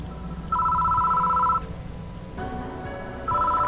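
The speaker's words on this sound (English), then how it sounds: "The phone on the desk is ringing." Desk telephone ringing in the horror game Death Mark II, two loud sustained electronic ring bursts separated by a quiet gap, with no voices.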